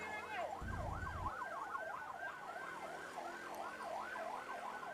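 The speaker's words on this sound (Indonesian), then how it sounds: "ada ambulan ya" An ambulance siren wails in a fast, continuous up-and-down pattern, somewhat distant, with a low rumbling thump near the start, on a road near Lembah Anai.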